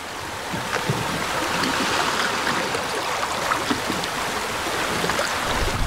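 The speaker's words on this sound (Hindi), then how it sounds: "चप्पू पानी के अंदर" Oars paddle through water beside a boat, giving a steady wash of splashing and rushing water with no voices.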